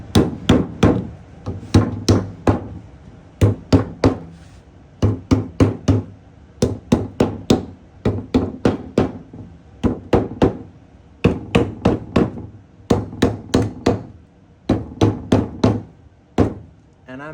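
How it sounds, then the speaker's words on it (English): A hammer knocks staples down into a wooden screen frame in quick bursts of three to five sharp, close blows, separated by short pauses and repeating steadily throughout. "so this is the opportune time to get the hammer"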